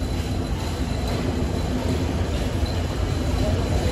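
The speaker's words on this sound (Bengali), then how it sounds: "আমাদের ট্রেন প্রবেশ করছে রাজধানী ঢাকার কমলাপুর রেলওয়ে স্টেশনে" The Ruposhi Bangla Express rolls into Kamalapur railway station in Dhaka, a loud steady rumble of wheels and carriages with faint squeals and voices under it.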